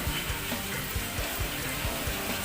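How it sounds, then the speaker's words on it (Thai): Small dried fish fry in oil over low heat, a dense, steady sizzle and crackle with faint periodic stirring scrapes, close and continuous with no voices. "ทอดไฟอ่อนๆนะครับ ถ้าไฟแรงเดี๋ยวมันจะไหม้"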